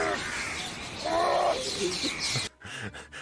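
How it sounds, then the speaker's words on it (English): Steady birdsong chirps and trills over a dense outdoor wash of noise, moderately loud, cutting off abruptly near the end. "Like there's constant birds throughout."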